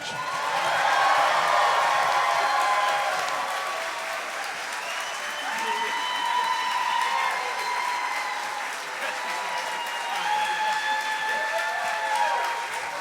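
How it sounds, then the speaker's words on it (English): Loud, sustained applause with cheering and whoops from a concert hall audience for a live big band on stage in New York, a dense wash of clapping lasting over ten seconds with voices shouting within it. "please join me in making some thunderous applause for the musicians that are surrounding me on this stage"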